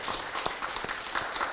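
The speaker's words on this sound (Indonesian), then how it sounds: "Tepuk tangan sekali lagi." An audience at a Teh Botol Sosro community gathering claps together, a dense, steady wash of applause with a few sharper hand slaps standing out, fairly close and continuous throughout.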